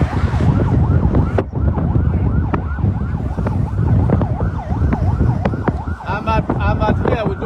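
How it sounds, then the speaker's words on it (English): A wailing Liberia National Police siren rises and falls repeatedly at a drug bust in Liberia, loud and close, over steady traffic rumble and background noise. "You can hear the sound of the siren with the Liberia National Police."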